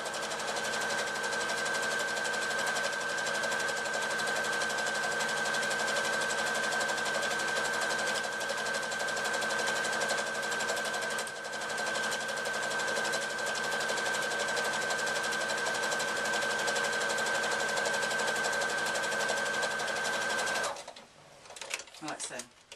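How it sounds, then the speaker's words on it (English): A sewing machine top stitching down the side of a handbag runs in one long, steady, fast mechanical whir close by for about twenty seconds, then stops abruptly, leaving a few faint handling noises. "I'm just going to run those stitches all the way down the side"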